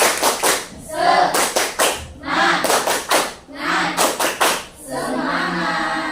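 In a classroom lesson, a group performs a rhythmic clapping chant, with sharp bursts of clapping in patterned sets alternating with voices chanting along, loud and close.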